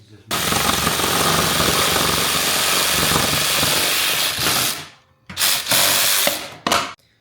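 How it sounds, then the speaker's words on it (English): An automated saw cuts through pipe for a Rubens tube, a loud, harsh continuous grinding roar that cuts out briefly and then returns in short bursts before stopping. "We're using an automated saw, but you can also use a device like this to cut through it."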